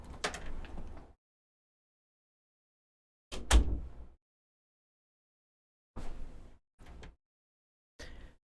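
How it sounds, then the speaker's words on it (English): A room door being pulled shut, heard as a close, fairly loud thump followed after a pause by several shorter knocks and clicks of the latch and frame, with silence in between. "I'm gonna close the door a little bit because I'm afraid the AC is loud"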